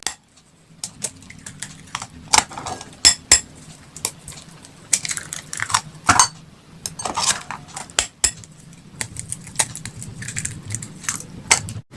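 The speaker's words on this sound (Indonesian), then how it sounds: "Kita aduk dulu ini agar nanti dimasaknya tidak menggumpal-gumpal ya" Dim sum egg filling stirred in a bowl, with a spoon or whisk clinking and scraping rapidly and irregularly against the sides, close and fairly loud, continuous over a soft background with no talking.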